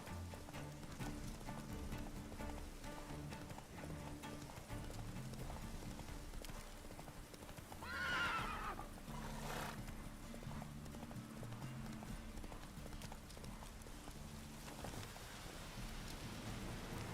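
Hoofbeats of a horse ridden in The Witcher 3, a steady clip-clop running through the whole stretch over rain and thunderstorm ambience and game music, with one brief louder burst partway through.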